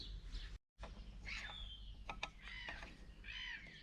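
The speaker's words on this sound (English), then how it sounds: "Dang seagulls." Seagulls call and squawk in short, faint bursts against a low background rumble, several cries scattered across a few seconds.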